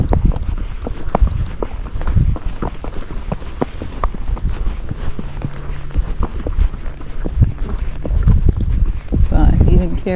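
A Missouri Fox Trotter horse being ridden outdoors steps at a short-strided, steady gait, its close hoofbeats thudding in an even rhythm over wind noise, while a rider talks over them.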